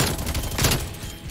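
A Stoner 63 machine gun fires in Call of Duty Cold War, a rapid, dense burst of shots blending into a loud continuous rattle over about a second.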